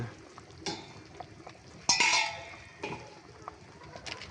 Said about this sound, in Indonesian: Kita aduk aja, lalu kita ambil sebagian dan kita icipin ya.